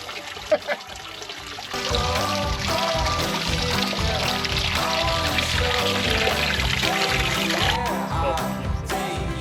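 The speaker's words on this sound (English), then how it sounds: "There's a whole shower of water worth right there." Collected water pouring out in a steady broadband rush outdoors at an RV campsite, starting after a couple of brief knocks and continuing loud and sustained to the end, with no talking over it.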